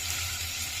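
Curry leaves fry in a pan for rasam, giving a steady, even sizzle that holds throughout the short moment with no other sound.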